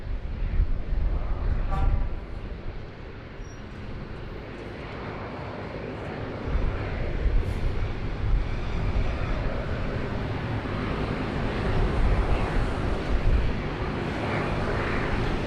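A Qatar Airways Boeing 777-300ER, retro livery A7-BAC, rolls for takeoff at Sydney Airport, a broad, steady jet roar heard from a distance that swells slightly as it goes, with a voice talking over it at times.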